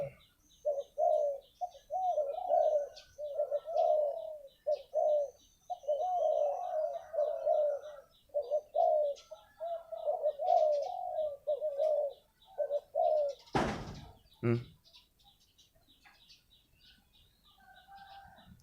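A large Thai dove coos in repeated soft, rhythmic phrases, close and clear, with a few chirps and a brief bump near the end.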